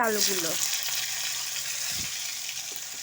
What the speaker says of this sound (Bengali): আলুগুলো একটু ভাজা ভাজা করে নিয়েছি